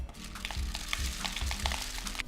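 Dry rice grains pour into a paper tube sealed with tape at the bottom to make a rain stick, giving a loose rattling patter with soft repeated thumps as the grains settle, close and moderately loud.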